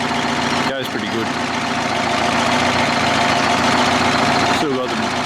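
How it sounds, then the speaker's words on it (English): A Detroit 8V71 two-stroke diesel with N65 injectors idles in an old Ford Louisville truck, a steady, loud, even rumble with a few brief clatters over it. "871 Detroit General Motors diesel, however you want to say it"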